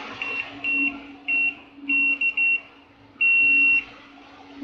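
Fluke 83 III digital multimeter continuity buzzer sounding in short high-pitched bursts of uneven length, ending on one longer tone, close and clear over a low steady hum.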